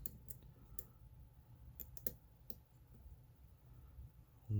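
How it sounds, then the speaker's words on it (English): A lock picked under heavy tension gives off faint, scattered clicks and crunches, a few sharp ticks spread over several seconds against quiet background hum. "Getting some clicking and crunching going on here"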